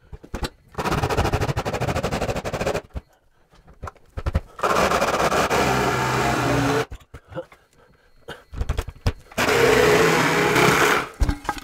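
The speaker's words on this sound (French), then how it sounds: "je prends la petite scie sauteuse à batterie. Et on y va." A small cordless battery jigsaw cuts through material while fitting a ducted air conditioner, buzzing in three loud bursts of rapid reciprocating rattle separated by short silences.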